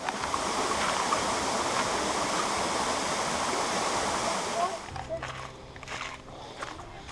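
Steady rushing water of a small cascade of waterfalls at Maniava Waterfall roars loudly nearby, then fades to a quieter background with faint footsteps and movement.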